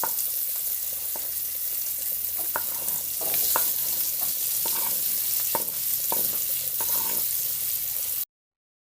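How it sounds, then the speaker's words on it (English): Sweet pepper, onion and garlic sizzling in a pot as a spoon stirs them, with a steady frying hiss under repeated sharp scrapes and clinks of the utensil, nearby and without talk. "Give it a stir."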